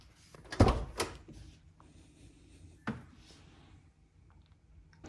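The door of a Mini Cooper S (R55/R56/R57 Clubman) is opened inside a garage, giving a cluster of close thunks and clicks followed by a single softer knock a couple of seconds later.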